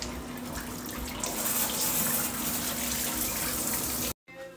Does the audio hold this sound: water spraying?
yes